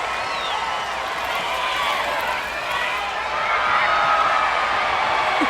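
Softball stadium crowd at the Women's College World Series, Oklahoma State versus James Madison, a broad continuous roar of cheering fans in purple and gold that swells slightly, with a commentator talking over it.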